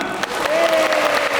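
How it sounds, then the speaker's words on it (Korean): Brief burst of dense audience clapping and cheering in a large hall at the Black Desert Festa 2023 game festival, loud and close, lasting only a moment. "선물로 박수 한번 주시죠."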